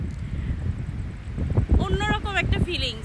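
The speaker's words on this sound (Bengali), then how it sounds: "এখনো বৃষ্টি হচ্ছে আর বাতাস" Strong wind gusting at the seashore near a casuarina grove in Kuakata after heavy rain, a steady rushing roar buffeting the microphone with a voice talking over it partway through.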